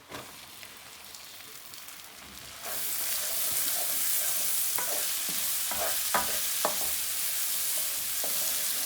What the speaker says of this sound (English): So give it a stir, let all that mix in, let it caramelise.